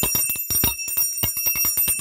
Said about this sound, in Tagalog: Yan ang kalimbang guys ha. Yung sinasabing na notification bell.